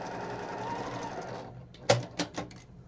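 A home sewing machine stitches Christmas quilt block pieces with a steady, close whirring run for about a second and a half, then stops. A few sharp handling clunks and taps follow.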